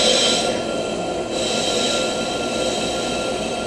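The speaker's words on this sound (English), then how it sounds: "It's going to cut the whole surface that the brake pad is going to ride" A brake lathe cuts across the surface of a brake rotor, producing a loud, steady grinding roar with a high metallic hiss, continuous and close throughout with no talk.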